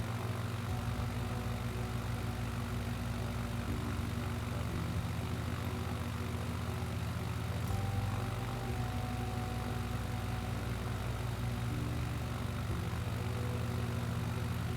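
A propeller airplane droning steadily on approach to landing, a constant low hum with layered engine tones, moderately distant and even throughout.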